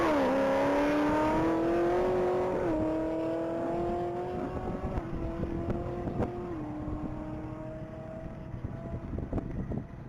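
Race car accelerating hard down the Texas Mile top-speed run, a loud steady engine drone climbing through gear shifts and fading slightly as it pulls away, with wind noise.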